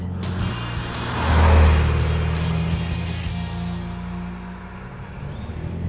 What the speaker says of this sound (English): with this sports exhaust, it sounds just as good